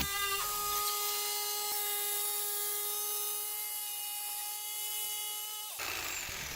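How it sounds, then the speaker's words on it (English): Jigsaw cutting wood with a high, steady whining buzz that runs continuously for several seconds, then stops abruptly near the end, leaving a rougher rustle. "you can make extremely straight cuts with a jigsaw with minimal filing and sanding after"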